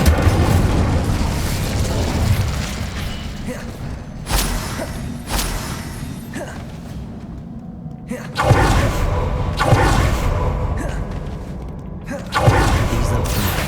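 Fire spells cast in the Hogwarts Legacy video game erupt as repeated loud booming bursts, several heavy whooshing blasts spaced a few seconds apart over a dense rumbling battle backdrop.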